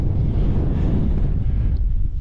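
Strong wind buffets the microphone on a mountain top in the Lake District at the tail of a storm, a dense, continuous low roar with no breaks.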